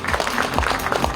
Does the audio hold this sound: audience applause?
yes